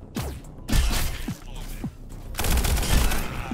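Gunfire in the video game Echo Point Nova: several sharp, loud shots with a dense rapid burst near the end, and faint talk between them.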